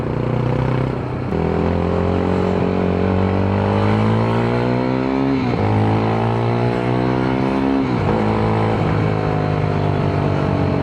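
A Yezdi Scrambler 350 motorcycle on a test ride, revved hard through repeated rising engine sweeps that climb, drop and climb again, loud and close with no talk.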